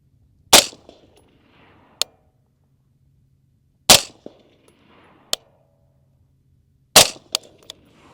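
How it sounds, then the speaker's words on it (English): Three suppressed 5.56 rifle shots through a Griffin Armament HRT suppressor, each a sharp, loud crack followed by a short ringing tail and a faint distant impact report, spaced about three seconds apart outdoors with no talk. "We're just gonna shoot 3 rounds."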